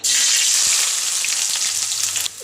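Thinly sliced onions sizzle loudly in hot oil in a pan for pulao, a dense bright hiss that holds steady before dropping off near the end, with no talk.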